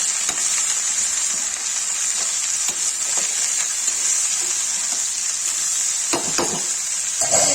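Okra and potato curry fries in a pan with a constant close sizzle, with occasional scrapes and clinks as it is stirred.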